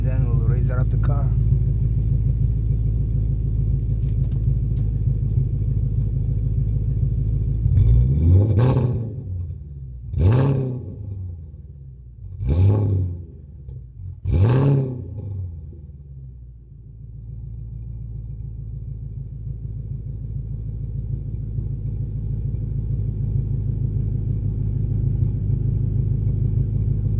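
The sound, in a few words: car with straight-pipe exhaust revving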